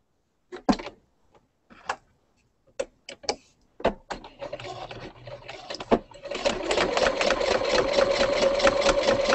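A sewing machine stitches fabric for earrings, starting with a few separate clicks and short bursts, then running steadily in a fast, close mechanical whir for the last few seconds.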